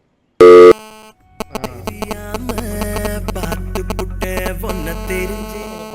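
A phone call to politician Kamal's number: one loud electronic beep, a brief pause, then a melodic caller tune that plays steadily with rhythmic musical notes.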